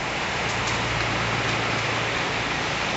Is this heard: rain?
yes